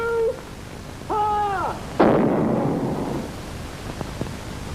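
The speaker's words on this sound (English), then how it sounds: "on certain ceremonial occasions you can still hear the guns resound" A ceremonial gun salute fires at Stirling Castle: a single heavy cannon boom with a long rolling echo that fades out, preceded by a couple of short horn-like tones.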